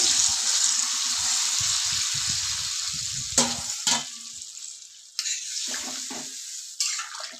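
Water poured into sizzling fried masala in a pan for rohu fish curry with potato and pointed gourd, a loud hissing rush that settles into a softer simmer, with a few clinks of a utensil.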